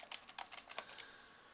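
Quick bursts of keystrokes on a computer keyboard while entering text in a spreadsheet, a rapid uneven clatter of close, faint clicks that trails off into quiet.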